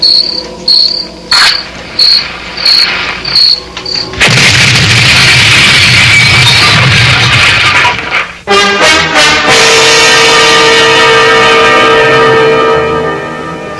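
A car gas tank explodes in a 1974 CBS Radio Mystery Theater drama: crickets chirp in short bursts, then a sudden loud blast rumbles on, followed by more booms and a long ringing tail.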